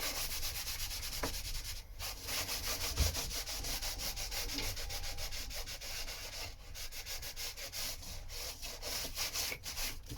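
A surface is rubbed back and forth to lift a black line, producing a continuous, close, dry rasping scrub with brief pauses and no voices.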